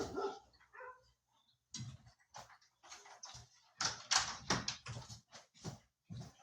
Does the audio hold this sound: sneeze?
no